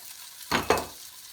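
Leftover food frying and browning in a pan, heard as two short bursts of sizzling and stirring close by, rising and fading within about half a second.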